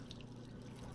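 Water runs from a kitchen tap in the video game Job Simulator, a soft, steady stream with faint splashy detail, quiet and continuous.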